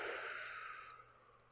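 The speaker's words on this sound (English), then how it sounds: "Exhale." A single soft exhale, faint and breathy, drawing out and fading over a second and a half during an eagle stretch for the upper back and neck.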